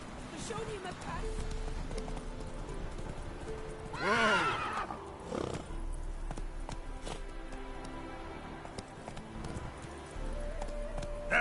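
A horse named Roach in The Witcher 3 gives a loud whinny near the middle, with steady hoof clip-clop running throughout and game voices talking over it.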